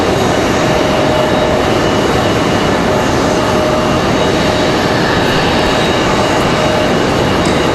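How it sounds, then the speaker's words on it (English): A United CRJ regional jet departing Raleigh Durham International Airport produces a loud, sustained broadband engine roar that fills the whole stretch without letup, with no talk. "that United CRJ getting ready to get out of here"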